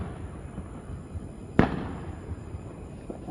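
Fourth of July fireworks go off outdoors, a single sharp distant bang near the middle and another faint pop at the end over quiet background hiss.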